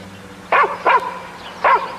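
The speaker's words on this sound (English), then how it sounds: "our female character Andy gets barked at by the dog Trigger" Trigger, a dog in a Goosebumps Monster Blood episode, gives three sharp, loud barks, two in quick succession and a third after a short pause, over a quiet background hum.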